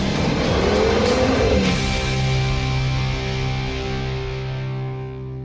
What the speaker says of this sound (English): A few revs, off the brakes, go.